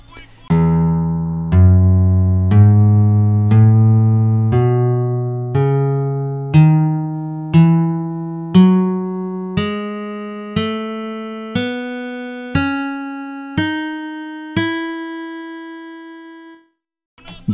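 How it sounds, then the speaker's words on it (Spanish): Ascending major scale played note by note on a sustained, harmonically rich instrument, fifteen evenly spaced tones climbing steadily from low to high over about sixteen seconds, each note struck and ringing, ending in brief silence. "Ahora notaremos que la escala mayor tiene una sonoridad muy particular."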